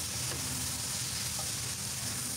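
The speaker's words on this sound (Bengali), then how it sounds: "এগুলো দিয়েও আমি কিছুক্ষণ ভেজে নিচ্ছি।" Sweet pumpkin and tomato pieces sizzle in hot oil in a pan while cooking a vegetable curry, a steady soft crackling fry close by with no talk.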